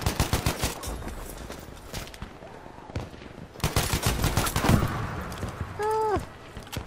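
Semi-automatic rifle fire in Battlefield V, sharp individual shots loud and near, coming in quick irregular bursts separated by brief pauses, with a voice talking briefly.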